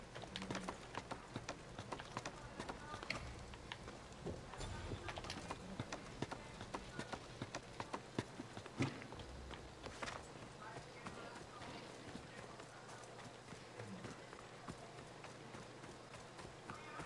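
Rhythmic hoofbeats of a horse galloping in Assassin's Creed Odyssey run steadily throughout, set against game music and effects, with a voice talking intermittently over the action.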